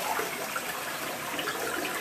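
A household toilet flushes right after its tank was rebuilt, a steady, loud rush of swirling water that fills the whole stretch without letup and with no talk over it.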